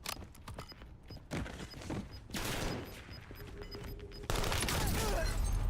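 Bursts of gunfire in the video game Warzone, a fusillade of shots cracking in irregular clusters with a sharp, louder stretch near the end.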